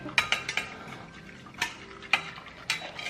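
A utensil stirs and scrapes in a cooking pot, with about seven sharp metallic clinks spread irregularly across a few seconds over faint background hiss.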